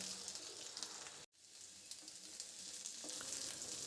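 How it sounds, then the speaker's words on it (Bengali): Potatoes frying in a pan for about a minute, giving a steady, close sizzle throughout with one brief cutout early on. "তার জন্য আলুটা আমি এখানে একটু 1 মিনিটের মতন ভেজে নেব।"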